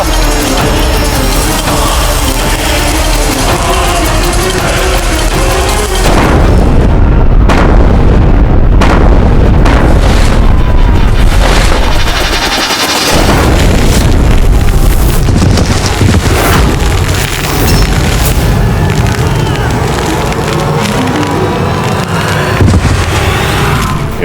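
Cannon fire and exploding shells in a battle between Rajput and Mughal armies, heavy booms and bursts crowding a loud, continuous roar of combat with sharp blasts repeating throughout and no talk.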